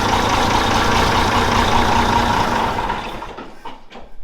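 A heavy old engine idles loudly with a steady low rumble and rhythmic chugging, then the sound drops off and grows quieter and rougher.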